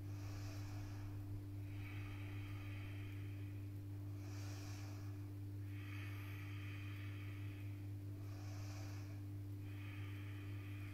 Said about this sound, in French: Encore 3 belles respirations.